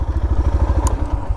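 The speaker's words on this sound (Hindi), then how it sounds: "बाकी तो अभी मैं राइड करने वाला हूँ FZS" Yamaha FZ-S FI BS6 motorcycle running with a steady low pulsing engine note, close and continuous, with a brief higher click partway through.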